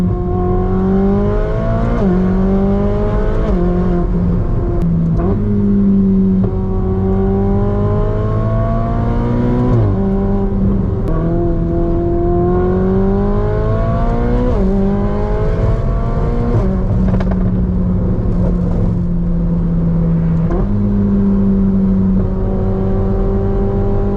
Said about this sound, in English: Downshifts are just so crisp in this car.